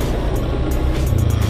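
A motorcycle engine runs near and loud as the throttle is twisted slowly, a steady low throbbing drone with a pulsing rhythm.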